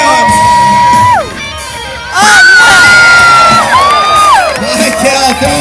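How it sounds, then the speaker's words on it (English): A large crowd at a BMX stunt show at the Texas State Fair roars, cheers and whoops loudly in two surges with a brief lull between, shouts and screams rising over the din. "Put your hands together and get loud for Mr. Mike Cal."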